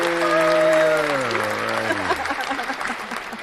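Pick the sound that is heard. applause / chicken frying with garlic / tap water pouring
applause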